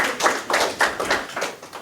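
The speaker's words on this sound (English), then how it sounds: "Applause." Audience clapping at a startup venture capital funding event, heard as a steady run of distinct, rhythmic hand claps at fairly close range with no talk over it.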